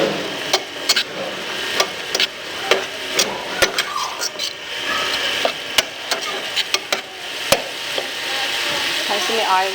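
Macaroni ingredients fry in a pan with little oil, a steady sizzle broken by sharp clicks and scrapes of a spoon stirring against the pan, loud and close.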